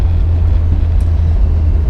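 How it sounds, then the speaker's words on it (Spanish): A 2006 Volkswagen Eos 2.0 TDI diesel engine pulling on the road, heard from inside as a steady, loud low drone with road rumble and no breaks. "me ha sorprendido cómo el motor empuja con decisión en casi cualquier marcha"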